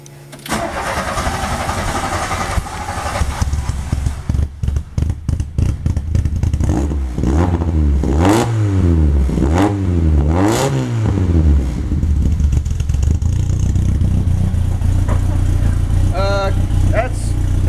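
A 1984 VW Golf Mk1 GTI with a straight pipe exhaust starts with a cranking stutter, then settles into a loud idle and is revved in several sharp rising and falling bursts up to about 3,000 RPM, close by.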